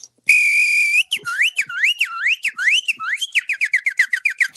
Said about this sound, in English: Most people are in awe when they hear me whistle.